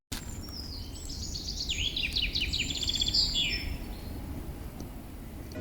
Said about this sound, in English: we also enjoyed the melodies of the birds in the forest